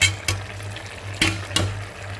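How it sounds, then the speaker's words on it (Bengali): Broth and chopped garlic go into a simmering curry, giving a low steady bubbling and sizzle broken by a few sharp splashes and clinks, close and fairly loud. "এই যে এতটুকু ঝোল দিয়ে দিলাম আমি এখন খুব অল্প পরিমাণে একটুখানি সিদ্ধ হবে"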